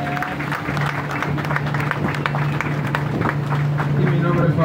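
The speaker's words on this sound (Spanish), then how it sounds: "un fuerte aplauso para el capitán, por favor" Applause for the captain aboard a river tour boat at the triple frontier, a short burst of passengers clapping over a steady low engine drone, with voices talking beneath.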